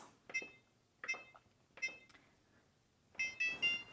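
Electronic oven timer beeping while a cheesecake bakes at 300 degrees: four separate bursts of rapid high-pitched beeps, moderately loud and close, with short quiet gaps between them.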